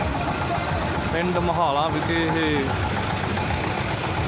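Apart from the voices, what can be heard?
tractor engines in a farmers' tractor march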